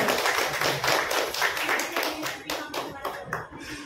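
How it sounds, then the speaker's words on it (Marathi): Audience applause for the constitution ambassadors at a Constitution poetry festival, a dense crowd clapping loud and steady throughout, with the sharp individual claps thinning out toward the end. "एकदा या संविधान दूतांसाठी एकदा जोरदार टाळ्या होऊन जाऊ द्या"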